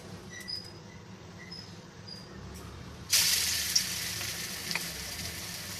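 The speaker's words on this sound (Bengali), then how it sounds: "তেলটা আমার গরম হয়ে গেছে, এবার বড়াগুলো ভেজে নেব।" Masoor dal fritters (bora) drop into hot white oil in a kadai over low gas, and a loud, bright sizzle bursts up partway through and keeps crackling steadily close by after quieter kitchen noise.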